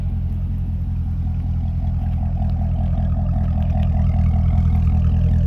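A 2010 C6 Corvette with its exhaust flanges open idles in a deep, steady rumble that swells slightly toward the end, a continuous loud engine note close by with no talking.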